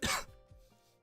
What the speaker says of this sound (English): I'm not burping. I'm coughing.